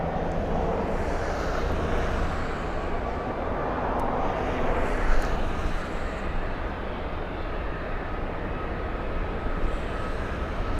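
United Airlines jet moving at Los Angeles LAX, a steady broad engine roar with low rumble holding level throughout, distant and continuous with no talk.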